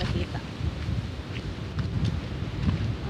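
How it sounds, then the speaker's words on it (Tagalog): Wind gusts beside the sea on a shell-gathering outing, rushing and buffeting against the microphone in an unsteady roar. "Ang hangin."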